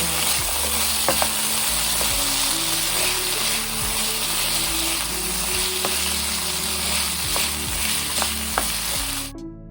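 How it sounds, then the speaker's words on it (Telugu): Small potato pieces fry with onions and green chillies in a pan, a dense continuous sizzle with occasional stirring clicks and scrapes throughout. "పొటాటోస్ని చిన్నగా పీసెస్ చేసుకొని అందులో వేసి ఫ్రై చేసుకోవాలి"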